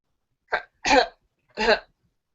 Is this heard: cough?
yes